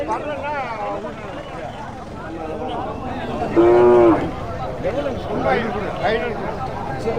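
A cow at the Madhanapalli cattle market gives one short, loud moo partway through, surrounded by the steady murmur of a busy crowd and nearby talk.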